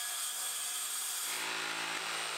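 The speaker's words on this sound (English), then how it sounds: "I made a plunge cut using my circular saw and then cut away some height from the back panel of the drawer" A circular saw makes a plunge cut into an MDF drawer back panel: a continuous high, buzzing motor whine close by, shifting in tone partway through as the blade bites into the board.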